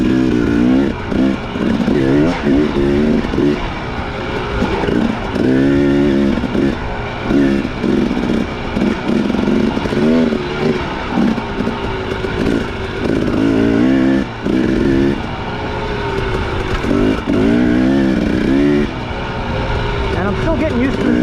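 A 2017 Husqvarna TX300 two-stroke dirt bike is ridden on trails, its engine steadily revving up and down with rhythmic throttle surges throughout, loud and close, with a rider talking over it.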